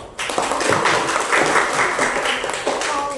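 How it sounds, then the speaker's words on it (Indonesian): Classmates clapping hands in a school classroom during a maths lesson, a short burst of group applause starting abruptly and running steadily throughout, fairly close and loud, with faint voices underneath. "Tepuk tangan dulu teman-teman."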